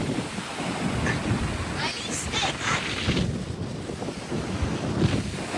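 Strong wind buffets the microphone over the rolling wash of rough sea waves flooding the shore, a constant gusty roar with surf surging beneath.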